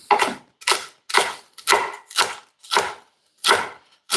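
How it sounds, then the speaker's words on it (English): Knife chopping through chunks of cabbage on a board, eight crisp, evenly spaced cuts about half a second apart, close and clear with no talking. "I'm gonna chop them"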